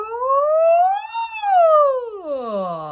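A human voice imitates a siren, gliding smoothly from low to high and back down in one continuous wail, then sliding lower again, clear and alone.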